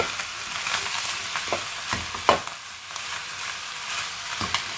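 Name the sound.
stirring chicken fried rice with soy sauce in pan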